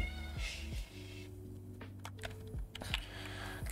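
A cat meows over a steady background hum and game music while someone plays Space Engineers, with faint keyboard clicks in between.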